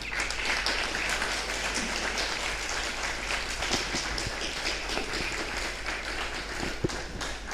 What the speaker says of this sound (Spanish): Si le sirvió, dele un aplauso al Señor.